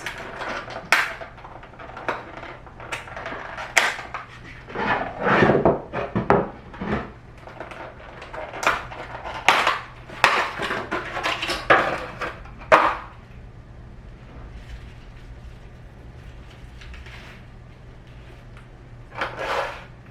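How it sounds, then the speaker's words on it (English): A knife chopping chives on a wooden board: a run of sharp, uneven knocks close by, clustered in the first thirteen seconds, then sparser cuts near the end. "we're gonna slice up some chives"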